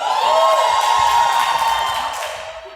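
A crowd breaks into loud, steady applause mixed with cheering and whoops; the sound holds for a couple of seconds and then gradually fades, with no talking over it.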